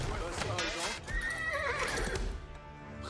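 A horse neighs in the medieval strategy game Age of Empires 4: a clear whinny rises and falls over about two seconds amid hoof clip-clops, while someone talks over the game sounds.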